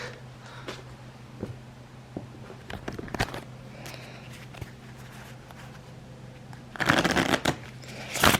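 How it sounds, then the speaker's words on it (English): Cards being shuffled, with scattered light taps and flicks, then a brisk riffle burst near the end, quiet room tone underneath. "now we intensify by shuffling these into the rest of the deck"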